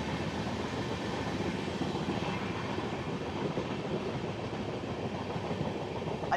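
A passenger train runs along the tracks on the Howrah to Digha route, making a continuous, even rumble with faint rattling and clatter that holds steady throughout at a moderate level.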